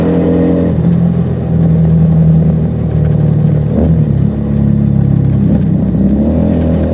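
A Keeway SCR 250V motorcycle fitted with a Mavionic aftermarket exhaust rumbles past, its deep engine note swelling and shifting pitch as it revs through the flyby, loud and close with no talk.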